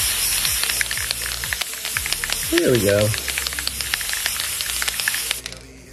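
Spray melt aerosol can hissing onto a glue gun art canvas in a garage, a steady broadband spray running almost the whole time, with clicks and a brief tonal rattle, and a voice speaking briefly.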